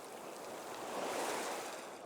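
Ocean waves wash steadily onto the shore in a continuous broad rush of surf with slight wind, loud and close throughout, no voices.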